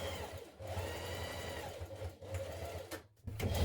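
A sewing machine runs steadily, stitching down a pocket seam on a garment, with a brief pause near the end before the motor hums back up, close and continuous.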